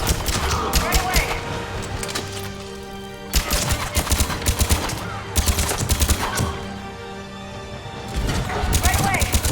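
Rapid gunfire from the video game Mass Effect 3, loud bursts of shots in clusters with short pauses, mixed with game music and effects and voices talking over the action.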